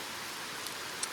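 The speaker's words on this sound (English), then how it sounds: "It's raining." Rain falls at a campground in the Great Smoky Mountains of North Carolina, a faint steady hiss of drops with a couple of tiny isolated taps and no talking.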